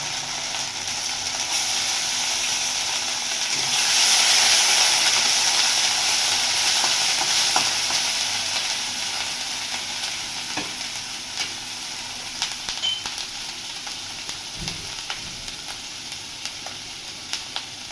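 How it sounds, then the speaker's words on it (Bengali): A paste of ginger, green chili, garlic and onion is stirred and fried in a pan, giving a steady close sizzle that swells briefly, then settles into a softer hiss broken by occasional scrapes. "মশলাটাকে ভালো করে কষিয়ে নেওয়া হচ্ছে"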